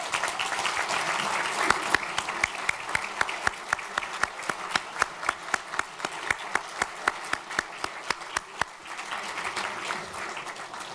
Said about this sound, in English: I would like for the committee to stand so that we could give you a warm and appreciative round of applause.